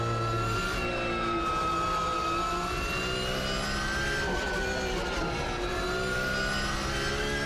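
Porsche GT3 race car engine in the Automobilista 2 racing game at Spa, a steady sustained drone with slight pitch shifts, continuous and fairly loud with no talk.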